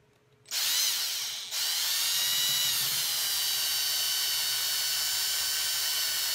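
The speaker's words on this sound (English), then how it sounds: "I'm gonna try the drill a little bit more since I didn't go real, real deep on that pin." A high-pitched power drill whines up and runs steadily, boring into a steel pin on a pinned and welded M4A1 muzzle device, briefly pausing before spinning again at a constant, close, piercing pitch.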